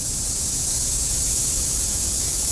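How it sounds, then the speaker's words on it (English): A spray gun lays a paint coat on the sides of a prepped, clean car body during a Ferrari F40 restoration, giving a steady, loud, close hiss that runs unbroken throughout with no talking. "Looks perfect, let's spray. Here's the gun."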